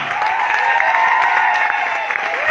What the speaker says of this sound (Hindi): Come on everyone, जोरदार तालियां।